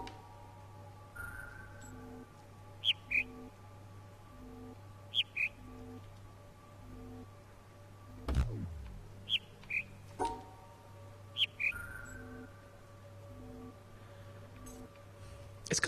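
Bird chirps from the video game The Witness recur in short paired bursts every couple of seconds over a steady humming ambient drone, with a descending swoosh midway and no talk.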